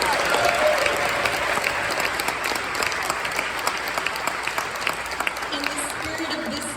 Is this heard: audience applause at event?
yes